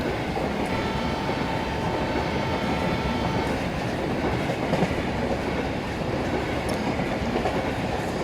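A diesel train in the Indian Railways Train Simulator game runs at speed, giving a steady, loud rolling rumble with faint rhythmic wheel clatter throughout.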